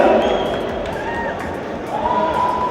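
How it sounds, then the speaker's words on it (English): A crowd at a Bollywood film promotion event roars and cheers in a dense, continuous wash of noise, with voices rising and a few shouts standing out. "Give him a big round of applause, ladies and gentlemen"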